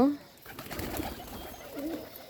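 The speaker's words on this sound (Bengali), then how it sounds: "এই ছোট কবুতরটা কিন্তু বাচ্চা কবুতর" Pigeons coo softly nearby at morning feeding time, a young pigeon among them, with low murmuring calls at the start and again near the end over faint background noise.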